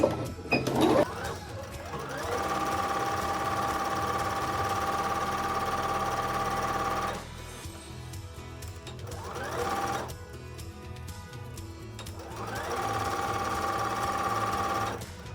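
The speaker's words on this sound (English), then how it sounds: "We're just going to go around and sew that in place." A sewing machine stitches dark gray fabric pieces for a wolf mask, running in long steady whirring stretches. It pauses briefly twice, and faint handling noises fall in the gaps.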